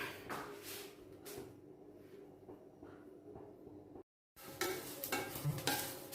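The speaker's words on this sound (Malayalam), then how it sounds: "അരിയും ജീരകവും മല്ലിയൊക്കെ പൊട്ടിത്തുടങ്ങി" Rice, cumin and coriander seeds dry roasting for homemade garam masala, stirred in a pan with a steady scraping rustle and soft crackle, broken by a brief gap of silence, with no talk.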